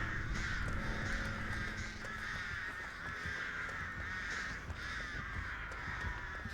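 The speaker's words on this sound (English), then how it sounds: "These birds are very loud." Loud crows cawing continuously and close by, repeated harsh calls overlapping through the whole stretch over steady outdoor background noise.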